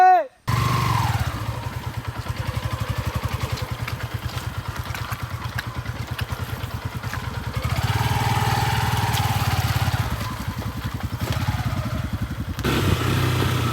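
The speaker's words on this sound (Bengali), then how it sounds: "আমরা পাহাড় বেয়ে বেয়ে বাইক দিয়ে উঠছি" A motorbike climbs the winding hill road up Chandranath Pahar, its engine droning loud and close without a break, with the note rising and falling a little as the ride goes on.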